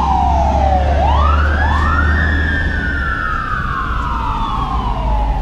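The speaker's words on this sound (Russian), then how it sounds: "Вот знакомый уже до боли вой сирен пожарной машины." Fire engine siren wailing along Santa Monica Boulevard, loud and close, its pitch rising and falling in long sweeps over steady street traffic rumble.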